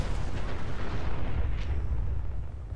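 Mine explosion rumbling in the video game Fallout 4, a dense, continuous low roar of blasts and debris that stays loud throughout and tails off slightly at the end.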